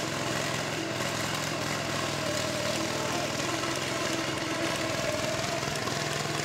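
A tractor engine runs steadily in a flooded rice paddy during transplanting, a continuous mid-pitched drone that holds level from start to finish with no talk over it.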